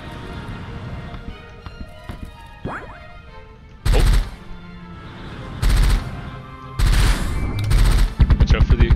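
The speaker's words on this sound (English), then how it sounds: "the explosion of ectoplasm." Bursts of rapid gunfire-like blasts and crashes from an ectoplasm explosion in the video game Rusted Moss, several loud short volleys separated by quieter game sounds.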